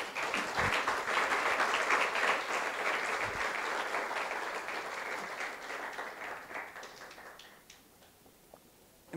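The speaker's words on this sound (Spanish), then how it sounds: "¿Cuántos pueden darle un aplauso fuerte al Señor?" A church congregation applauds loudly during a sermon, with dense crowd clapping starting strong and gradually thinning and fading toward the end.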